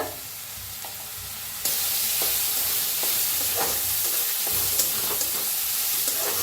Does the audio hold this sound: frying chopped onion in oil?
yes